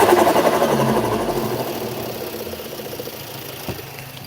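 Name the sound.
BMW engine running with turbo flow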